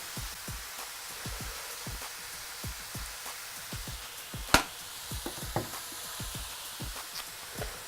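Meat fries in a pan with a steady crackling sizzle and irregular popping spatters, close by, plus one sharp clink partway through.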